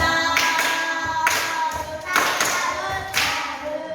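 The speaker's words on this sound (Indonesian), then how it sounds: "tepuk salut untuk kita semua" A school class performing the rhythmic "tepuk salut" clap, sharp patterned bursts of many hands striking in unison with short pauses between groups, fairly close and loud.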